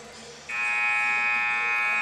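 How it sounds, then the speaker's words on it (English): A loud electronic buzzer blares and holds steadily for over a second, cutting in over low crowd murmur in a large hall at a high school boys' basketball game. "That buzzer means it's time to start playing"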